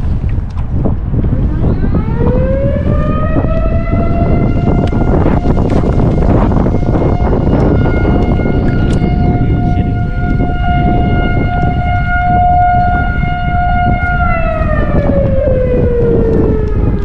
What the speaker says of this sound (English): I'm not really sure what that tornado siren was about